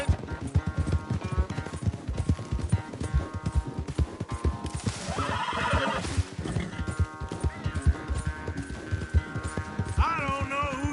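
Rapid clip-clopping hooves of a racing horse in Red Dead Redemption 2 gallop steadily over background music, with a loud horse whinny rising midway and another short neigh near the end.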